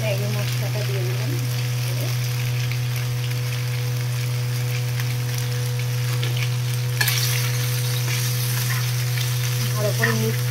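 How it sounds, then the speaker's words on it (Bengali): Spiced paratha filling with Maggi masala being stirred and mixed in a frying pan, a steady soft sizzle running throughout with occasional faint scrapes and clinks, close by, with no talk. "ভালো করে মিক্স করি।"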